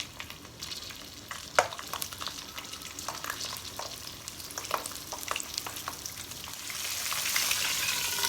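Stuffed bell peppers filled with pork fry in a covered pan over low heat, giving a soft, steady sizzle with scattered pops and crackles that grows slightly louder toward the end.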